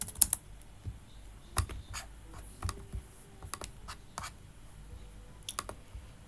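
CSS code is typed on a computer keyboard, giving quiet, close, irregular key taps in short bursts separated by brief pauses.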